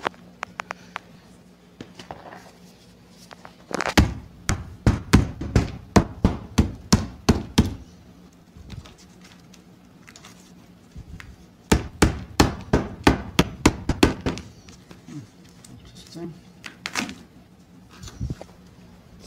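A hammer bangs against an interior wall while a mobile home trailer is torn down, with two loud bursts of rapid repeated blows separated by quieter stretches of faint background noise.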